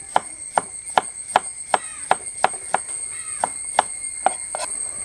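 Cucumber chopped into small pieces for a curd salad, the knife striking the board in a steady run of about a dozen sharp, close knocks, with a faint high whine in the background and no talking.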